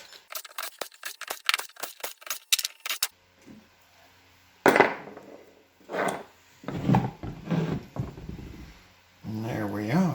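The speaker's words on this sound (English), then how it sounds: "Let's go ahead and pop these long bolts out so we can split this in half." Metallic clinks and taps come from long bolts being pulled out of a C5 Corvette differential, a quick run of sharp close clicks followed by sparse clunks while someone talks between them.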